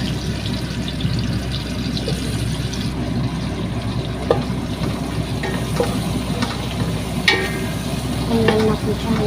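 Basil frying in reused oil in a pan until lightly browned, a steady dense sizzle with occasional stirring clinks and scrapes, faint speech underneath.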